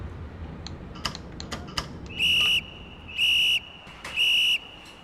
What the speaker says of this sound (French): quelqu'un voilà, qui nous a sifflé pour nous dire qu'on était au bon endroit